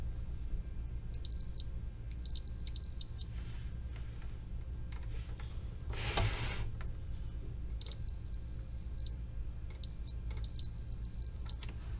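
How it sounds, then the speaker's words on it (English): A digital multimeter set to continuity emits clean, high-pitched electronic beeps, some short and some sustained, while probing a power supply port against its chassis, with a brief rustling scrape midway over a low background hum. "Try setting the digital multimeter to perform a continuity check and then test the connection between this port and the chassis of the device itself."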